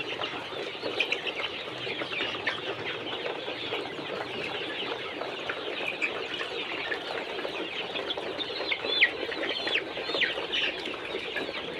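A large flock of brown cock broiler chicks on a poultry farm of about two thousand birds fills the space with dense, continuous high peeping and chirping at a moderate distance, with no talking.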